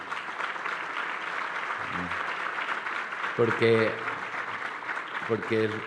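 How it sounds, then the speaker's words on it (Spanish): Audience applause for Juan Camilo at a mining association congress fills the background as a soft, continuous patter, while someone speaks briefly over it. "un aplauso a Juan Camilo por todo lo que ha hecho por este gremio"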